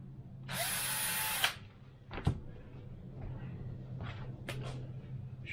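A small power drill with a 1.5 mm bit whines loudly for about a second drilling a servo hole in a model aircraft fuselage, followed by a few light clicks and taps in a quiet room.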